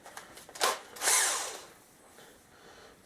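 A Milwaukee 12 volt cordless drill drives a screw into wood in two short whirring bursts, the second longer and winding down, heard up close with no talking.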